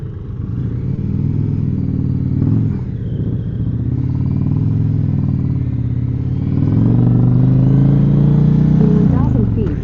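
Group of motorcycles riding together on a highway toward Tulsa, Oklahoma, their engines droning loud and close with wind rush, the pitch rising as they accelerate toward the end, while a rider talks over it.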